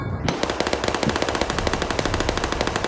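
Rapid automatic gunfire from the Melon Playground video game rattles in a fast, even burst that starts abruptly and keeps going loud and close throughout.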